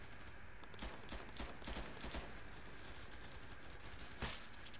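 Rapid gunfire from the online shooter game Zula, a continuous stream of shots with several louder bursts standing out against dense in-game noise, with no talking.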